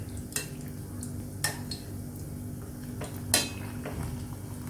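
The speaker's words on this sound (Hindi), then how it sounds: "इस तरह से हम इस पर गरम तेल डाल देंगे तो ये अच्छी तरह से सब तरफ से पक जाएंगे" Chicken kebabs fry over a medium flame while hot oil is spooned over them. A steady low sizzle runs throughout, punctuated by three sharp metallic clinks of the spoon against the pan.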